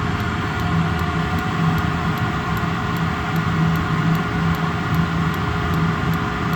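An Eberspacher BN4 heater running at max heat gives a steady, even roar with a constant low hum beneath it, unchanging from start to finish and heard alone without talk.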